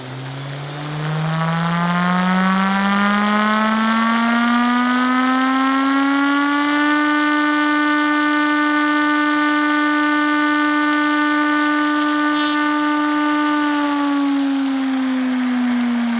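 Three-phase inverter washing machine motor on a variable frequency drive, a loud whine rising steadily in pitch as it spins up to full speed, holding a high steady tone, then starting to fall as it slows.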